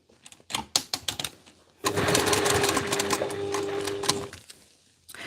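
A sewing machine runs a basting seam through fabric for a cosplay backpack, a steady close mechanical whir lasting a few seconds after some scattered handling clicks and taps.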